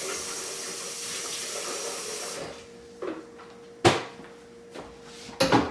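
Hot water runs steadily from a tap to clean out a container for about two seconds, then shuts off, followed by a few scattered clunks and knocks.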